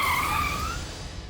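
A car brakes hard to a sudden stop with a loud, near tire squeal that sweeps briefly, then fades into low road rumble.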